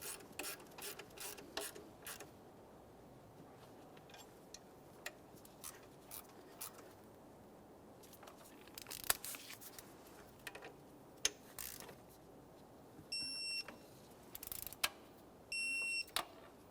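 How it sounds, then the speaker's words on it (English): A torque wrench tightens the upper water pump bolts on a 2014-2019 Toyota Corolla engine, giving sparse, quiet ratcheting clicks in a hushed space, with a few short, sharp tonal beeps near the end. "For each of these bolts, we're going to snug them, and I'm going to torque them to 18 foot-pounds"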